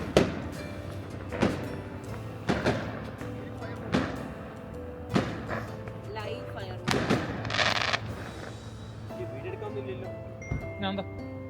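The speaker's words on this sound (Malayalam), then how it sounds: "ഫ്രീ ആയിട്ട് ഫയർ വർക്ക്സും കൂടി കാണാനുള്ള ഭാഗ്യം ഉണ്ടായി ഈ പ്രാവശ്യം." Fireworks go off outdoors near the Sulaila Lake campsite in Dubai, a string of sharp, well-spaced booms and crackling bursts of varied loudness, with voices talking under them.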